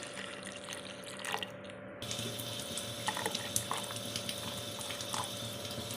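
Water pours from a tap into ground gooseberry and mango to make juice, a steady close splashing stream with small drips on top.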